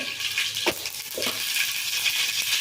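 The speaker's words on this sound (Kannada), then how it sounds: "ಇದೆಲ್ಲ ಒಗ್ಗರಣೆ ಮಾಡ್ಕೊಳ್ತಾ ಇದ್ದೀನಿ" Hot oil sizzles with a bright crackling hiss, punctuated by a couple of sharp pops as mustard seeds spatter in the pan.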